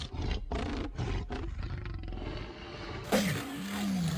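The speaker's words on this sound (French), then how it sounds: "ils ont fait ça pour avoir le cri du T-Rex" A T-Rex roar built by mixing animal cries such as penguins and elephants plays as a loud, drawn-out growling roar, followed by a higher, strained screech near the end.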